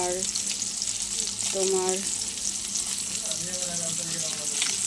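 Fish with garlic, green chilli, turmeric and salt frying lightly in a pan, a steady close sizzle running throughout beneath a brief spoken word.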